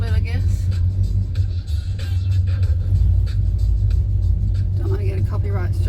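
A truck engine warms up, idling with a loud, steady low rumble that holds unchanged throughout, close to the microphone.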